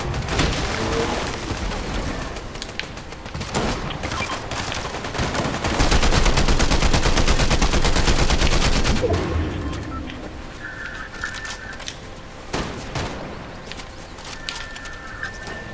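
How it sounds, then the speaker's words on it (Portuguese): Dense bursts of automatic gunfire from the video game Fortnite fill the first nine seconds loudly and continuously, then thin out into sparser, more distant shots against quieter game ambience. "Igual que tá tendo tiro aqui, ó."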